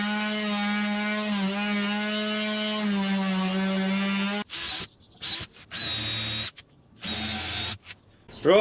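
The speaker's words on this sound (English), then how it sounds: "I'll drill 2 holes in each of these" Power drill boring two holes into each piece of wood, a steady loud whine for several seconds, then repeated short bursts of drilling separated by brief pauses.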